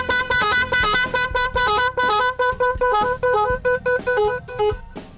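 A different tone from an 8-sound echo car horn relay module on a battery: loud, rhythmic honks stepping through a melody, close up and uninterrupted, fading near the end.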